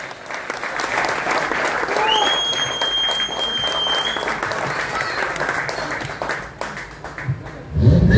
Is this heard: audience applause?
yes